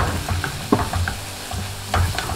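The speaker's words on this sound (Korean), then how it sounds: "김치에 기름이 돌고 볶아졌잖아요, 투명하게" Kimchi stir-fried in oil crackles and sizzles up close as a spatula scrapes and tosses it in quick, uneven strokes, with no one speaking.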